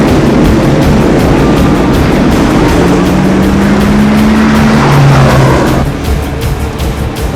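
Pack of NASCAR race cars roaring loudly at the start of a race, a dense sustained engine din with a rising tone sweeping through before the sound drops slightly near the end.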